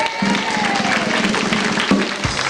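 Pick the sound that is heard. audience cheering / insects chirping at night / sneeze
audience cheering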